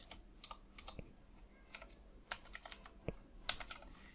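A git merge commit message typed on a computer keyboard, quick bursts of close key clicks with brief pauses between them and a few heavier key thumps, quiet and with no voices.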